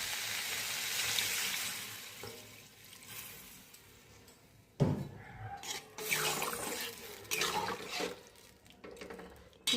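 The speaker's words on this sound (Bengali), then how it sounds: "এখন জল দিয়ে দেব।" Water poured into a pan of spiced, fried rohu fish curry, a quiet splashing pour with gurgling bursts after a soft lull, no talking.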